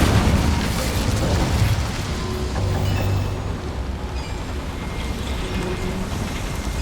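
An Incendio fire spell cast in Hogwarts Legacy, heard as a loud, continuous roaring whoosh of flame that holds steady, then eases slightly and keeps burning with a dense, rushing texture.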